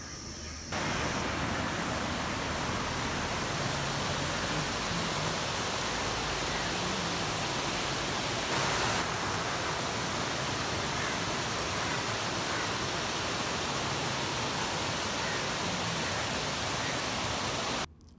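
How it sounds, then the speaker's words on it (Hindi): Kiwai waterfall in Naran, Pakistan roars as a steady, loud broadband rush of water, unbroken and constant from start to end with no voices over it. "ये पानी की आवाज़ इतनी प्यारी"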